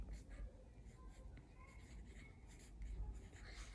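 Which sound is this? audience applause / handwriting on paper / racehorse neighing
handwriting on paper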